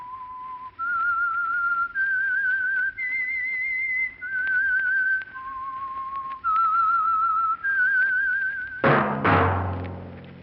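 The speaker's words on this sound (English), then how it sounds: "That whistle is your signal for the Signal Oil Program, The Whistler." A single person whistles the theme tune of The Whistler radio program, a slow melody of sustained, wavering notes that climb and fall with short breaths between phrases, clear and alone, then cut off by a short burst of music.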